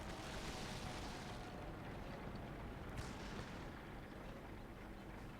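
A tank's main gun fires in World of Tanks, a dull, heavy boom buried in a dense, steady roar of engine and battlefield rumble that fills the whole stretch, with one sharper crack near the middle.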